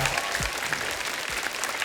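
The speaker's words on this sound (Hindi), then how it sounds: "जोरदार तालियां हो जाए." A studio audience at a taping of The Kapil Sharma Show claps in a loud, continuous burst of applause that stays even from start to finish.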